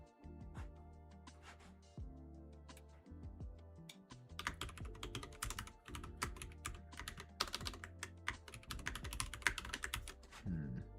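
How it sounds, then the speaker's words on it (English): Fingers type on a mechanical keyboard with brown switches, producing rapid, irregular bursts of close, crisp key clacks with brief pauses between runs. "Mechanical keyboard, brown switches is the way to go for me."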